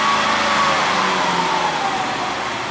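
A Ford Escape engine held at about 3,000 RPM during a fault diagnosis gives a steady, loud mid-pitched drone with a faint whine that eases slightly toward the end, with no voices.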